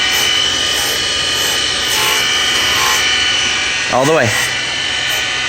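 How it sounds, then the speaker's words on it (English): A surface grinder runs steadily with a continuous high whine and grinding hiss, a brief warbling sweep partway through, while a person speaks briefly over it. "George learned how to run the surface grinder for the very first time."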